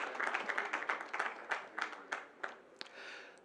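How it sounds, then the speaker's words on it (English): An audience at an architects' forum in Lagos applauds the president of the Nigerian Institute of Architects, starting full and then thinning into scattered individual claps before fading out. "A round of applause for him,"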